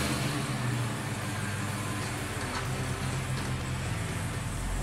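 Supercharged 6.2-litre LSA V8 idling in a 1968 Oldsmobile Cutlass 442, a steady low rumble with a smooth continuous drone heard up close for several seconds, no talking.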